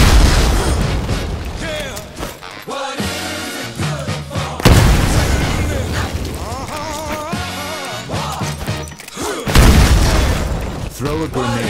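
Grenade explosions in Titanfall: three heavy booms spaced a few seconds apart, each a sharp loud burst trailing into rumble, with speech and game sounds between them.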